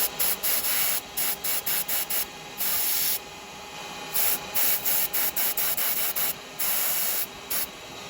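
Short bursts of aerosol spray paint hiss repeatedly onto a wooden turned Christmas tree in an uneven rhythm, with brief pauses between sprays and a couple of longer bursts.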